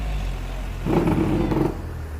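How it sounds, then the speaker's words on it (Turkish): A Ford car passes by on a street, a mid-pitched engine and tyre rumble rising briefly over steady background traffic noise, close by for about a second before fading. "Ford araba geldi."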